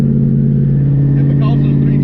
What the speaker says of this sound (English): Right now the car is running really good